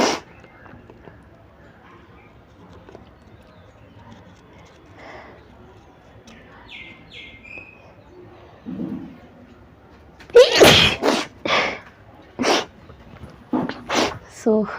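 A person does a 100-sneeze challenge, with quiet stretches and faint sounds early on, then a cluster of loud, close sneezes and snorts near the end, some overlapping speech.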